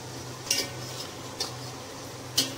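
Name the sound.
potatoes being added and stirred in a pan for biryani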